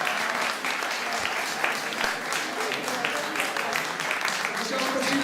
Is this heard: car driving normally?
no